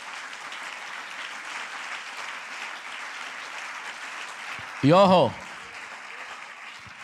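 A church congregation claps for the Lord during a sermon, a steady wash of applause with a brief voice rising above it midway.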